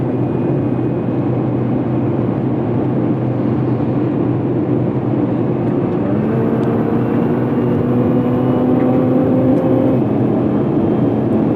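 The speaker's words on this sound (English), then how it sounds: "Car's definitely fun to drive." A car cruises along a road, a loud continuous engine and tyre drone filling the whole stretch with a slowly rising tone and no talking.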